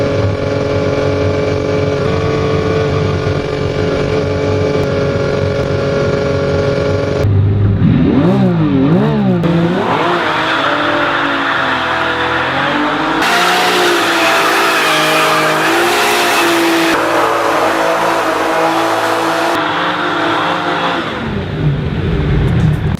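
Ferrari F50 with its 4.7-liter V12 in a Need for Speed game, loud and close, revving hard with rising and falling pitch sweeps, then a high sustained wail as it accelerates.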